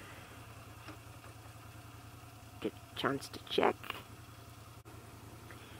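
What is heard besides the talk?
Moto Guzzi motorcycle engine idling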